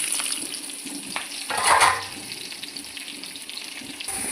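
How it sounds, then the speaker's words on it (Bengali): Chopped onions drop into a little hot oil in a wok and sizzle at close range. A brief louder burst of frying swells in the middle, then fades to a softer, steady hiss with light stirring scrapes. "কড়াই সামান্য তেল দিয়ে দিলাম এবার পেঁয়াজ কুচি দিয়েছি"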